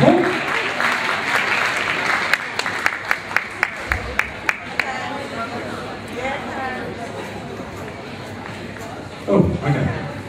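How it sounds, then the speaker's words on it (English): A ballroom crowd claps to welcome Masters Level 2 Latin dance couples onto the floor: steady, fairly dense applause with some sharper close claps in the opening seconds, murmuring beneath, and an announcer speaking near the end. "let's give them a round of applause, please, ladies and gentlemen"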